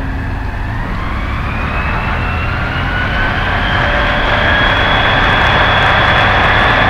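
An Ikarus C42 microlight's engine at takeoff on the runway, a steady loud drone rising gradually in pitch and intensity as it accelerates, continuous with no talk.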